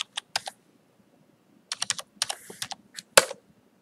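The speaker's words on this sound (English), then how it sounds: "I enter the password," A password is typed on a computer keyboard at a Linux login prompt: close, crisp keystrokes in short uneven bursts separated by brief pauses, ending with one sharper final key press, with no talking.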